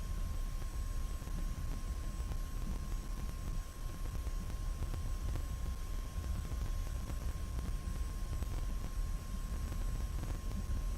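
F-86 Sabre jet engine roaring steadily during a takeoff roll in DCS, a constant loud broadband rumble with a thin high whine, carrying rockets, no voices.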